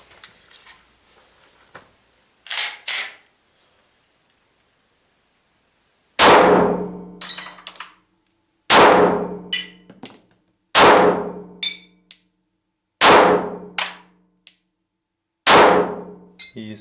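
A Glock 30S pistol fitted with a Glock 36 grip fires about seven sharp, loud reports: two close together early on, then five spaced roughly two seconds apart, each with a short ringing tail.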